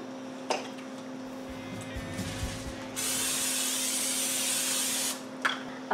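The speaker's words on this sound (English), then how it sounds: "you want to get a 9x13 baking dish, and we're just going to lightly spray that" Cooking spray hisses steadily onto a 9x13 baking dish for about two seconds after brief handling clatter, close, in a quiet kitchen with a faint hum.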